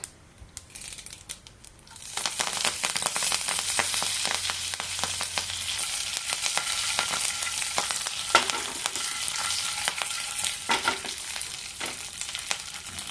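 Curry leaves hitting hot oil for a green tomato chutney, breaking into a steady, dense crackling sizzle after a quiet start, with occasional sharper pops and stirring scrapes close by.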